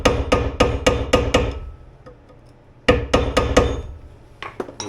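Sharp metal hammer strikes in two quick bursts of about six blows each, separated by a short pause, with a few lighter taps at the end.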